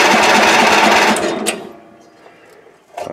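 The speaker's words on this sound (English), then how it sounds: "I'll turn the key and we'll see if it cranks." Turning the key on an old Ariens machine cranks the small engine with a fast, loud mechanical whir for about a second. A fainter click and a short burst follow, with no voices.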